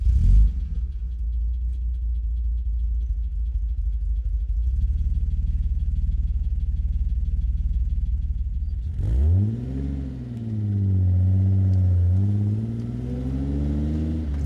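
A Ford 26 M (P7) with its 2.6-litre, 125 hp V6 idles with a low steady rumble, then pulls away with rising, wavering engine revs as it drives off, near and fairly loud.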